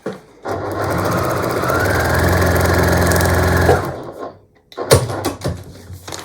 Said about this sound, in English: I'm just gonna sew a little bit before and a little bit after this line between the A1, A2 unit and A3